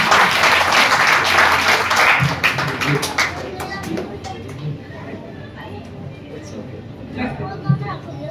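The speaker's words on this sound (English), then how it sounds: "So big round of applause for Dr. Alwani" Audience applause for Dr. Alwani at a spina bifida awareness and free screening camp, a burst of clapping that thins out after a few seconds into scattered claps and room noise, with voices murmuring underneath.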